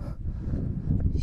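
Strong wind of a Saharan sandstorm buffets the microphone outdoors in a steady, close, low roar that swells slightly toward the end.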